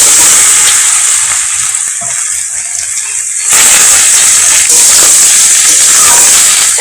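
Sliced ridge gourd frying in a pan, a steady broadband hiss and sizzle that drops slightly in the middle and then swells louder again, with no talking.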